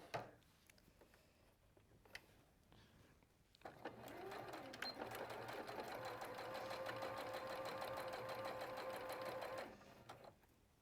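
A sewing machine stitches down a long seam of fabric, running in a steady rapid whir for about six seconds after a few faint handling taps, fairly quiet and close.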